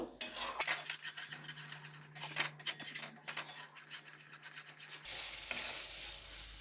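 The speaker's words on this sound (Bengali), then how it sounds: "মশলাটা ভালো করে কষে নেব।" Spice paste of turmeric, salt, a little sugar and Kashmiri chilli powder sizzles in a pan for a paneer kofta curry, with a steady fry hiss and repeated scraping stirs of a spoon against the pan, fairly quiet and close.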